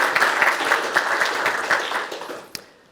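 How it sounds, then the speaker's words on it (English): Audience applause at a software presentation, a dense wash of many hands clapping steadily for under three seconds, then tapering off with one last sharp clap. "Give him an applause."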